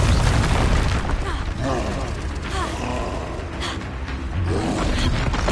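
Confringo and Incendio spells cast in Hogwarts Legacy: loud, dense magical blasts with booming impacts, fiery whooshes and creaking, rumbling effects that keep the soundscape busy throughout.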